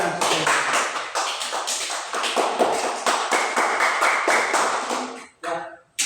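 A class of students clapping hands together in a fast, steady rhythmic pattern for about five seconds, loud and close, ending with a couple of final claps.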